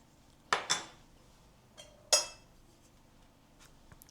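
Metal spoon scooping hard butter while cooking, giving a few sharp clinks and scrapes against a dish with quiet gaps between them, close and fairly faint.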